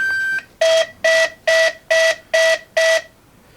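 Electronic speed controller in an E-flite Viper 70mm EDF jet beeping on battery plug-in: one long steady tone, then six short, evenly spaced loud beeps, clear and alone.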